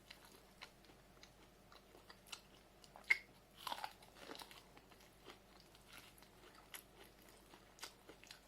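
Someone bites and chews crunchy, sweet corn kernels in a close, quiet setting, with repeated soft crunches and clicks spread irregularly throughout, and no talking.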